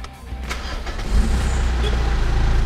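A car fitted with a newly installed aftermarket exhaust cranks and fires up, the engine catching with a low thump and settling into a deep, steady idle close by.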